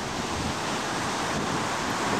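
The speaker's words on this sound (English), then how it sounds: "You see the waves rolling in." Rough ocean waves roll in on a beach at a Varadero, Cuba resort, a loud continuous roar of surf mixed with gusting wind noise on the microphone, with no talking.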